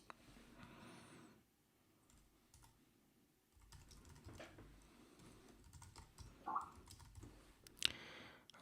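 Computer keyboard keys clatter in quick, irregular bursts, faint and close, with short pauses between runs of keystrokes and no voices.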